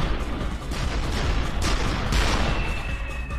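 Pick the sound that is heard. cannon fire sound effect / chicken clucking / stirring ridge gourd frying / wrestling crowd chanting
cannon fire sound effect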